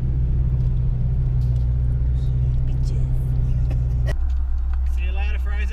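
A 4WD utility vehicle drives along a Fraser Island beach, its engine giving a close, steady low rumble that drops away near the end, with faint voices underneath.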